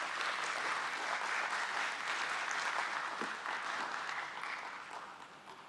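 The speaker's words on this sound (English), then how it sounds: "Please welcome him with a round of applause." Steady applause from an audience at a company stock listing ceremony, a dense wash of clapping held at moderate distance, tapering slightly toward the end with no talking.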